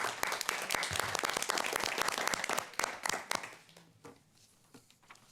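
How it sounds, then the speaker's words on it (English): People at a city council meeting in Conway, Arkansas applaud to honour years of service, close and lively clapping that tapers into a few scattered claps. "So let's give a round of applause for those two."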